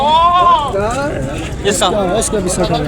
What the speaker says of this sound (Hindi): वाइट कलर में खूबसूरत बकरा है